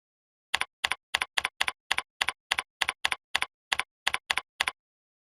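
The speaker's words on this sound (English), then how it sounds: "The learner types a reply message in the text box" Computer keyboard keys tapped while typing a reply message, about fifteen crisp clicks in quick, slightly uneven bursts, close and fairly quiet with no talking.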